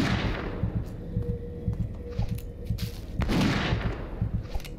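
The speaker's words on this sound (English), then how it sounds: "I guess just gotta keep shooting." Rapid gunfire in the video game Witch Hunt: a dense, steady stream of sharp shots rattling close and loud for several seconds, with a few heavier bursts mixed in and no talking.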